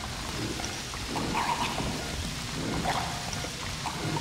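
Water is poured onto a captive in a video game, a continuous soft splashing and hissing wash that swells and eases over several seconds with no talking.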